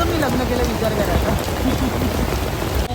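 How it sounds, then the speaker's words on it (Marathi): Steady rain pouring down close by, a dense continuous patter with no break, faint voice-like tones drifting underneath. "पाऊस थांबत नव्हता"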